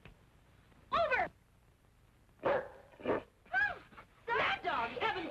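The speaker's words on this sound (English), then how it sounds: "Mad dog, heaven preserve us all." A dog in a wartime drama film barks in several sharp bursts with gaps between, fairly close and loud, with yipping tones.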